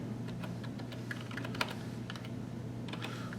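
Steady typing on a computer keyboard, close and moderately quiet, with quick irregular key clicks over a low constant hum and no talking.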